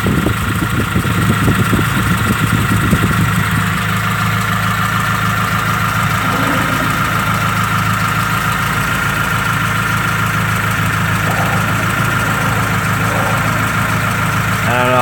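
A green truck's engine idles steadily and close for the whole stretch, a constant low rumble with a faint light tick running beneath it.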